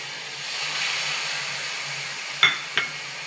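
Ground boiled spinach goes into a pan of frying spice paste, giving a soft steady sizzle and hiss, then two quick sharp clinks of a utensil near the end.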